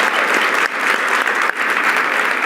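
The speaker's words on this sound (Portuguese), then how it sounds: "Uma salva de palmas." A loud, dense round of applause from a crowd, continuous for its whole length with brief dips in intensity and no voices on top.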